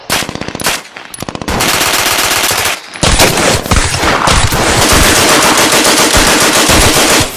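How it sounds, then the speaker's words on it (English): Loud, close machine gun bursts in a LEGO war film, rapid rattling volleys with a short pause before a long sustained stretch of continuous gunfire, with no speech. "Suppressing fire!"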